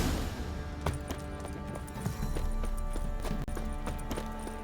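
Horse hooves clip-clop in The Witcher 3 over a steady rumble of game ambience, a regular trotting rhythm of moderately loud hoofbeats.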